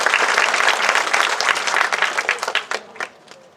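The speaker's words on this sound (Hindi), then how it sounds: "प्लीज जोरदार ताली।" Applause from an audience at an event in Mumbai, dense and steady at first, then thinning into scattered individual claps before fading out.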